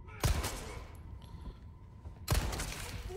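Resident Evil 4 gameplay gunfire: two loud, sharp bursts of shots about two seconds apart, with a quieter game ambience between them.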